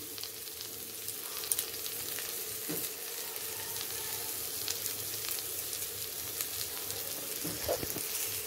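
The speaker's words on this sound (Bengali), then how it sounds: "আলুগুলো দিয়ে আমি আরও একবার ভালোভাবে কষিয়ে নেব।" Diced potatoes sauté in a pan of oil for Bengali muri ghonto, a steady soft sizzle running throughout with a few faint scrapes and clinks near the end.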